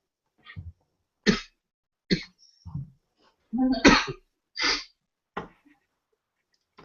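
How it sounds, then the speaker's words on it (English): A series of separate coughs, about eight short bursts spaced apart, fairly close and moderately loud, with no talking. "Some good coughing happen in the background."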